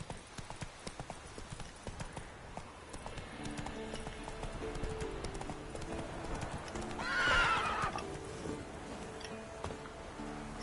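Geralt's horse Roach galloping in The Witcher 3, steady close hoofbeats with a whinny around the middle, faint game music underneath, no speech.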